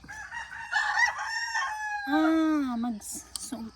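One rooster's crow rings out at dawn on a farm, loud and near, with a long drawn-out, falling final note and a few quieter clucks and sounds after it.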